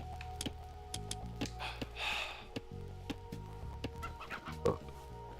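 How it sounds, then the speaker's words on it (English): Chickens cluck in short, scattered bursts amid clicking game effects in Age of Mythology Retold, quiet and layered with other in-game sounds. "Come on, start herding the chickens."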